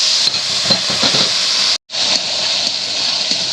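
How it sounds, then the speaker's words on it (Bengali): Steady loud hiss and sizzle as water is added to spiced masala cooking in a hot pan, continuous with one brief dropout, no talking. "এবার একটুখানি জল দিয়ে দেবো, একটা মশলার জল একটু দিয়ে দেবো"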